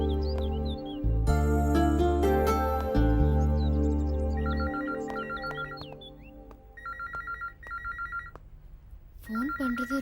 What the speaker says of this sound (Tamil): ஃபோன் பண்றது ராஜீவா தான் இருக்கும்னு நினைக்கிறேன்